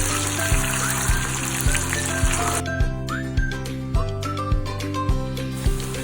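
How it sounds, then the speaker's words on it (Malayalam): Soya chunks deep-fry in hot oil with a continuous crackling sizzle, punctuated by regular soft knocks or clinks from the pan about every half second. "കുറച്ച് ഇട്ടിട്ട് പെട്ടെന്ന് ഫ്രൈ ചെയ്തെടുക്കാം."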